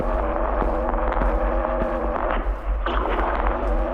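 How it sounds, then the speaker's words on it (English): Dense distorted drone and crackling noise from an indie horror video game, loud and continuous with low throbbing hum and scattered sharp glitchy bursts throughout. "Some distortion."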